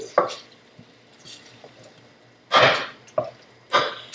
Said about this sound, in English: I'm just going to stir us one more time.